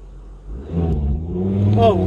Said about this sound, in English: It goes for like half a second or less, bogs down, and then goes properly.